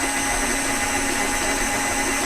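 An electric hand mixer whirs steadily at low speed through cake batter with flour and corn flour, a continuous close motor drone with no pauses and no voices.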